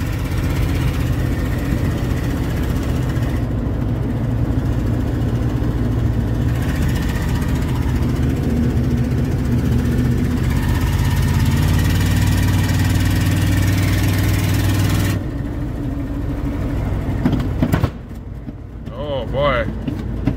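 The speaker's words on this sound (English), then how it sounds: "Here's a street view driving the F-150." A Ford F-150 pickup cruises through town, its engine giving a steady, loud low drone that shifts in pitch, then drops away and changes sharply in the final seconds.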